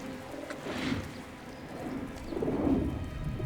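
Pigeons coo softly in low, rolling bursts near the water's edge, two swells of throaty calls rising over a faint background patter that sounds like light rain.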